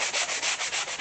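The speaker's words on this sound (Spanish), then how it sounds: "yo estoy lijando con un taco de lija de grano medio" A medium-grit sanding block rubs back and forth over a wooden craft box in steady, even strokes that make a close, continuous hiss with a regular rhythm.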